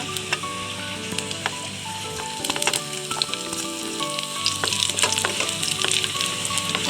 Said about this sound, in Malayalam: നമ്മളതിലേക്ക് 3-4 വറ്റൽമുളക് ചെറുതായി അരിഞ്ഞ് ചേർക്കാം.